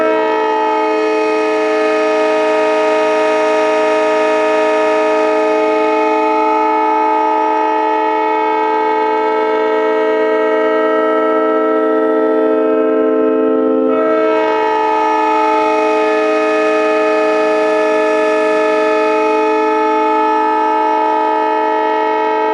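A Prime PM 920 train horn sounds at 150 pounds of air pressure, a loud, sustained multi-tone chord held for over twenty seconds with one brief dip partway through.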